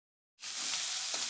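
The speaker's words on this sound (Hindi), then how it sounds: "अदरक डाल देंगे, थोड़ा सा फ्राई करेंगे, ये प्याज भी डाल देंगे" Garlic, ginger and onion sizzle and fry in a hot pan for a vegetable curry, a steady, loud hiss that starts suddenly and holds close up without voices.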